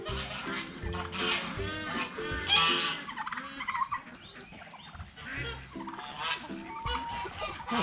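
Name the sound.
geese honking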